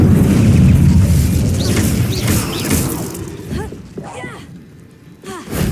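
A fire spell cast in the Hogwarts Legacy video game erupts as a loud, rushing blaze that fills a dense stretch of combat effects, scattered chirping tones poking through before a fresh surge at the end.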